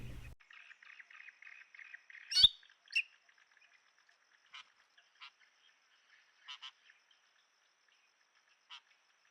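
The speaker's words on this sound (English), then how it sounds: "The white-rumped munias again." White-rumped munias at a rocky pool give short, thin calls in scattered bursts, with a soft continuous twittering early on, one sharp louder note, then a handful of brief isolated chirps at moderate distance.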